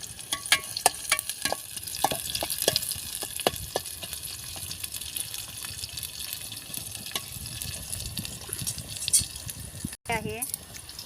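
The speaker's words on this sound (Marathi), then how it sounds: "आता त्या तेलामध्ये आपण दोन पाल्याचे कांदे कापलेले टाकूया" Chopped onions hitting hot oil in a pan over a wood-fired chulha, a dense steady sizzle with frequent stirring scrapes throughout and a voice talking over it.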